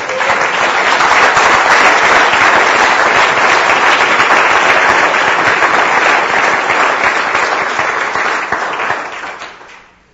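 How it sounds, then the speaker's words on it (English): A church congregation claps together in sustained, dense applause that holds steady for several seconds, then fades out at the end. "Can you give him a clap offering?"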